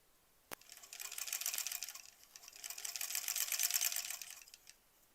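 A sewing machine stitches quilt blocks for a granny-square quilt in two quiet, rapid bursts after a sharp click, with no talk.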